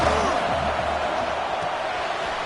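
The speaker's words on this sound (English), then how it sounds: "listen to this crowd noise. This stadium is vibrating." Dense stadium crowd roar at a college football game in NCAA 26, a steady loud wash of cheering with no breaks, filling the whole stretch without talk.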